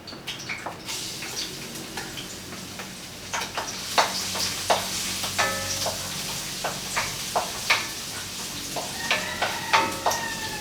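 Onion and garlic sautéing in a pan for a beef sopasta, a continuous close sizzle broken by regular sharp spatula taps and scrapes against the pan.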